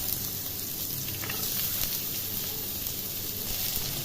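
Onion pieces sizzle and fry in hot oil and butter seasoned with cardamom, cloves and bay leaf for paneer butter masala. The hiss is steady, close and continuous, with no voices over it.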